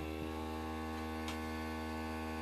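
A steady mechanical hum with a rich buzzing drone runs continuously at an even level from a small airbrush compressor pump running nearby.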